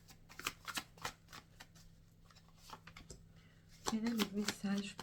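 Tarot cards are shuffled and dealt out for a nine-card spread, quick papery riffles and soft taps in bursts, with a person talking over the latter part.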